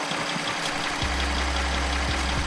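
An Audi S6 engine idles right after its first startup with new turbos, a steady close rumble with a rhythmic low pulse that deepens about a second in, running with no coolant.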